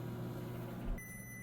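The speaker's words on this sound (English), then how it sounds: "I'm going to set the microwave for" A microwave oven hums steadily while cooking anchovies with potato on high, a low close drone with tonal bands that cuts off abruptly, leaving a faint high whine.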